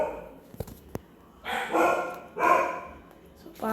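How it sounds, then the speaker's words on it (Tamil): Puppy yips and barks a few times, sharp short bursts early on followed by longer whiny vocal stretches, close by, with a voice also present. "ஸோ இன்னொன்று வந்து இந்த நாய்க்குட்டி வேறு உழைச்சிட்டே இருக்குது."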